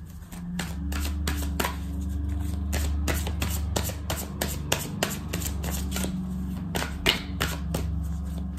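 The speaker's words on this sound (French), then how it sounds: "Avec 3 cartes du tarot persan de Madame Indira." Persian tarot cards being shuffled by hand at close range, a quick series of crisp riffling snaps and flutters repeating in bursts over a steady low background hum.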